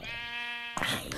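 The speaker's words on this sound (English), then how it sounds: "Sheep!" A Minecraft sheep gives a single buzzy, steady bleat that cuts off abruptly, followed by a brief burst of scrappy noise.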